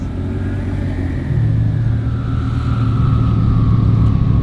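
Supercars such as a Lamborghini Superleggera and a Ford GT passing in a line, a continuous engine rumble that swells as one accelerates and revs, loud and close, with no talk over it.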